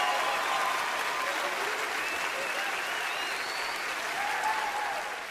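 Comedy-club audience applauding through a stand-up set, a dense, steady wash of clapping with scattered cheers and voices mixed in, fading slightly at the end.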